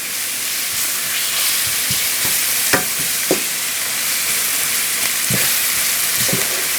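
Onion fries in a pan with a steady, bright sizzle and hiss, while occasional scraping knocks of a utensil stir it up close.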